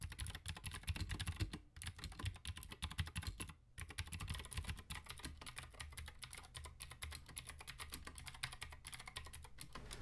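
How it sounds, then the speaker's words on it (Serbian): Fast, steady typing on a mechanical computer keyboard, close up: a dense run of key clicks with two brief pauses, and no voices. "Sad jedno što mi se sviđa jeste taj zvuk samih tastera"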